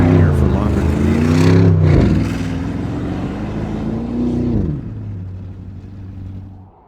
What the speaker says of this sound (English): The twin-turbo V8 just pulls and the 8-speed automatic transmission is superbly matched